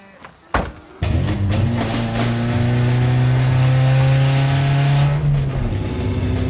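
A car with a broken exhaust revs hard and rough, its raspy, blatting exhaust droning loudly and rising in pitch, close by with no talking.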